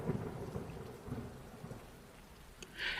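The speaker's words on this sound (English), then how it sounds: "It's just thunder. It's outside and we're safe here in our house." Thunder rumbles low and continuous outside a house during a storm, with steady rain hissing over it and a brighter patter rising near the end, no voices.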